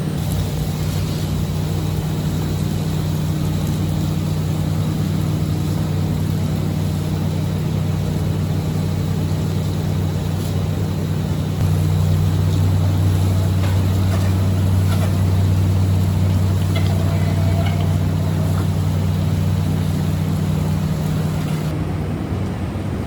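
An insulation blower drones loudly and steadily while blowing cellulose into the exterior walls of a new-construction house. The low engine hum shifts in pitch partway through and runs without a break.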